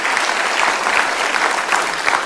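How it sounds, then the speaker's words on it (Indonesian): A studio audience at an Indonesian political talk show breaks into applause, a dense, steady wash of clapping that fills the whole short stretch without pause. "Kita beri tepuk tangan Bang Ara."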